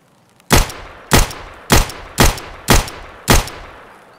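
A rifle in Escape from Tarkov fires six loud, sharp, unsuppressed shots at an even pace, each with a short echoing tail and no talk over it.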